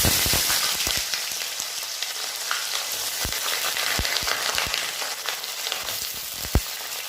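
Chopped onions fry with dried red chilies and whole cumin in a pan, a dense continuous sizzle broken by sharp knocks and scrapes of a spatula stirring, close up with no voices.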